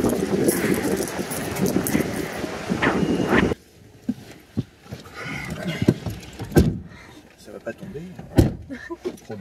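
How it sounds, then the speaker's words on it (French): Loud wind buffets the microphone for a few seconds, then cuts out and leaves quieter car-door thumps and voices talking. "Il y a un vent de malade."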